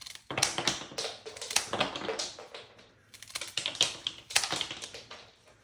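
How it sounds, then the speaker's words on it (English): Flower stems for a summer garden bridal bouquet are snipped with quick, crisp cutting clicks in uneven bursts, close and fairly quiet, with no talking. "So I'm going to cut my stems about here."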